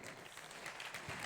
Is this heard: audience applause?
yes